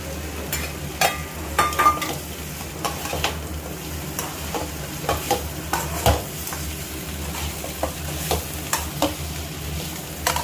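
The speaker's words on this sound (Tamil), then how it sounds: "இந்த வெஜிடபிள்ஸ்க்கு கொஞ்சம் உப்பு போட்டுட்டு நம்ம வறுத்து வச்ச சிக்கனை இப்போ நம்ம போட்டுடலாம்." Fried chicken tossed into salted vegetables in a hot pan, with steady close sizzling broken by repeated scraping and stirring strokes of a spatula.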